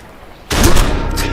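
A single loud, close shotgun blast in the zombie game Dead Don't Die bursts out of near silence and leaves a ringing, decaying echo.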